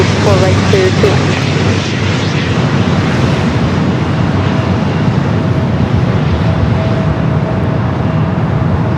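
A fixed-wing airliner lands on runway 24 right at Los Angeles International Airport, its engines a loud, steady roar, with a brief voice near the start.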